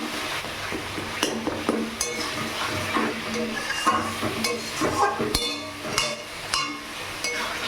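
Spice paste for a Bengali koi fish curry stirred in hot oil in a pan, with a low sizzle under repeated scraping and clinks of a spatula against the metal, close and steady throughout.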